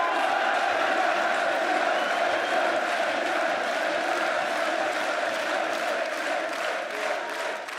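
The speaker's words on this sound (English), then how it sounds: "Thank you, everyone, for cheering for us." Dense, steady roar of a large arena crowd cheering at the League of Legends World Championship 2015, loud and continuous throughout with a broad wash of voices and no distinct speech.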